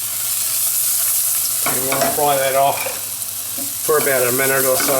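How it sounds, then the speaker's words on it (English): Spice paste for a homemade Madras beef curry fries in olive oil in a pan, a constant hissing sizzle heard close, while a person talks over it in two stretches. "add the rest of the olive oil, and we want to add the spice paste into it. And we want to fry that off"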